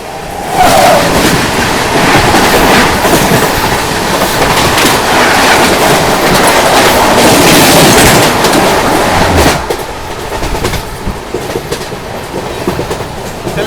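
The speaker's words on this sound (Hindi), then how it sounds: "चलिए यहाँ पर हम लोग जो है ललितपुर जंक्शन स्किप कर रहे हैं।" A superfast express train runs through Lalitpur Junction without stopping, a loud, close, roaring rush with clattering wheels that drops abruptly to a quieter rumble toward the end.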